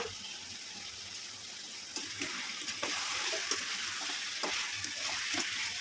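Ginger paste frying with chicken in a pan, a steady hissing sizzle with occasional stirring scrapes and clicks that grows slightly louder partway through.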